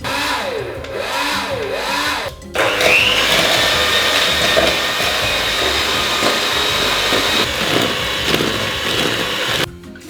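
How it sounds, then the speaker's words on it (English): Softened butter and caster sugar being beaten together, a steady loud whirring and scraping that runs almost unbroken for about seven seconds before cutting out. "we're going to beat our softened butter and caster sugar together until it's light and fluffy"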